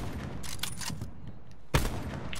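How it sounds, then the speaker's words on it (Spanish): Gunfire in a first-person shooter: several sharp bursts of shots in the first second, a lull, then a louder single blast followed by more firing, heard up close without talk. "Está Alberto disparando."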